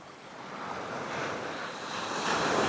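Surf washing in at Clifton Beach in the wet season, a steady broadband wash of waves with wind rush, swelling louder toward the end, no voices.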